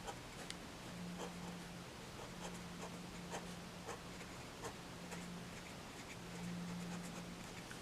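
Fine-nib Sailor Shikiori fountain pen writes on paper with soft, close scratchy strokes and small ticks, steady and faint over a constant low hum, with no voices.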